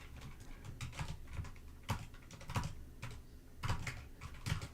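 Rapid typing on a computer keyboard during a live coding session, with irregular bursts of clacking keystrokes close by and no talking.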